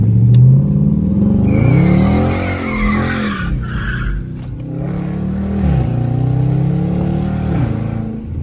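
Dodge Charger RT engine revving hard while drifting through a turn, loud and close with rising and falling rev sweeps and tire squeal layered over the engine roar.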